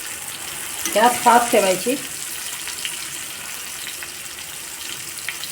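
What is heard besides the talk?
rani fish frying in a pan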